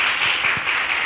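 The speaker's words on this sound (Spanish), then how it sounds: "Pedimos un aplauso para José" An audience at a university talk on Mexican music claps for the speaker José, a brief, close burst of steady applause lasting about a second.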